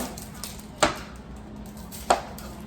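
A knife chops a medium onion on a cutting board, two crisp separate thuds over a quiet steady background hum.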